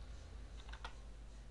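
An IP address typed on a computer keyboard, a brief cluster of a few quick key clicks, faint and close, over a low steady hum with no voices.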